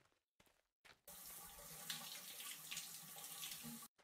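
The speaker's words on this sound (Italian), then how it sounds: "uriniamo." A character urinates in a medieval life-simulation video game: a steady, close stream of splashing liquid runs for about three seconds after a few brief spurts, then stops abruptly.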